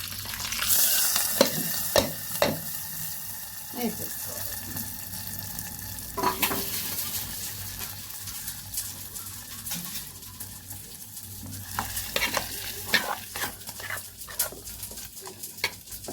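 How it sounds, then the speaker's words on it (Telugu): Tempering spices for a gongura peanut chutney crackle and sizzle in hot oil, with scattered sharp pops and utensil taps; a dog whimpers faintly in the background now and then. "స్టవ్ పెట్టేసుకుని పోపు వేసేసుకున్నాం"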